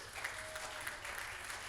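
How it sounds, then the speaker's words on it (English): Audience applause at a comedy-style show at Snojam 2023, a short steady burst of many hands clapping together in a room, moderately loud with no clear breaks over its length. "You can clap."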